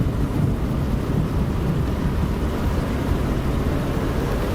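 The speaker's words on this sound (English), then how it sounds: "I'm sure you can hear the rain, the winds, the thunder, the lightning." Heavy rain, wind and rumbling thunder in a Microsoft Flight Simulator storm, a dense, steady roar with low rolling rumble throughout and no voices.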